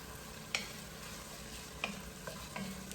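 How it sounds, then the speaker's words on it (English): Onions and garlic sautéing in a pot make a low, quiet sizzle, broken by a few sharp clicks of a spoon stirring against the pot. "once we have the onions and the garlic in the pot and they're sauteed"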